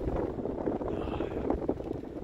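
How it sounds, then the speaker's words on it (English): Wind gusting across a microphone on a mountain trail on a cool day, a steady broadband rumble and buffeting that stays loud and continuous throughout. "Boy, is it windy."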